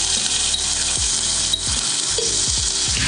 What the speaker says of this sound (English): We're going to add a couple tablespoons of the chopped onions,